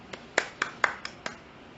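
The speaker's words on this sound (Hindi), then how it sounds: "ताली बजाओ, तालियां," Six separate, sharp hand claps ring out at an uneven pace at a religious discourse on the Samaysar scripture, with quiet gaps between them and no voices.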